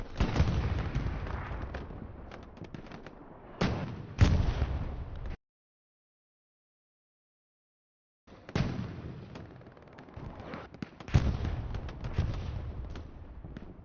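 Artillery shells burst in rapid succession during a multiplayer war-game battle over a compound, a loud near barrage of booms and cracks that cuts to silence for a few seconds, then resumes just as dense.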